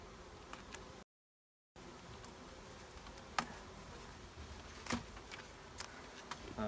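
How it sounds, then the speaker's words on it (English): Honey bees buzzing and whizzing close around a beekeeper's hands while the queen is being marked, a faint steady insect drone with brief louder passes, no talking. "I was a bit distracted with the bees whizzing around my hands"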